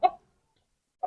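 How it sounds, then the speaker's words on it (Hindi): An Aseel rooster of the yellow-feathered strain gives two short, close clucks about a second apart, with silence between them. "ये पीला मुर्गा जी,"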